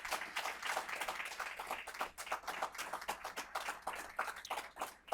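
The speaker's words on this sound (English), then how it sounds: "So let's give everybody a round of applause." Steady applause from an audience at a VA Northeast Ohio Healthcare System quarterly awards and recognition ceremony, dense overlapping hand claps sustained for several seconds at a moderate, somewhat distant level with no talking.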